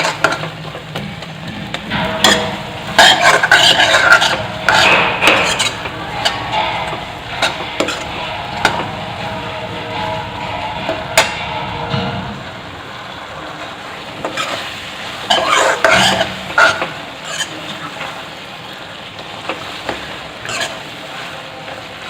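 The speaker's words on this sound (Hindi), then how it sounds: "इसको अच्छे से ऐसे भूनेंगे।" Chaap pieces being roasted and stirred in a pan for Sindhi chole, with spoon scrapes and clinks against the metal over a steady low sizzle, louder in bursts and quieter later.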